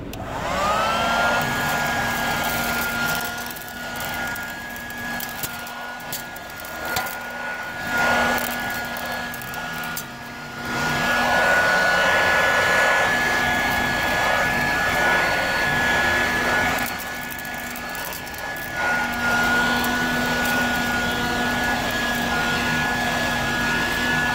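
A Dirt Devil hand vacuum for cars runs nearby with a loud, steady whining motor and a high tonal drone, and its pitch and loudness change as it sucks up dirt.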